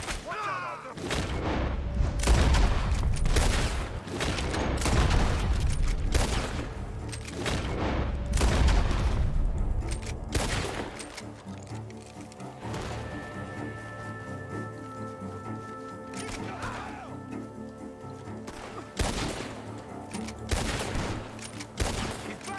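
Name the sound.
gunfire in the video game Red Dead Redemption 2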